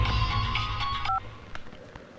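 A telephone number is keyed in on a phone during a Telugu film scene, a short run of clear dial tones over a busy background bed, ending with a steady tone before it fades.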